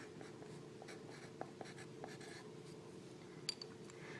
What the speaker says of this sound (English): I'm going to write the word positive so I remember that.